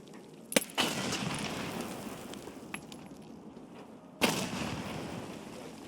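Grenades going off in a game's Icebreaker mission: two sharp, loud blasts a few seconds apart, each with a crackling rumble that trails off and faint clinks in between.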